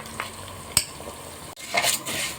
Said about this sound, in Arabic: الرز بنحمره اهو، حاطين له حبه زيت كده على حته السمنه.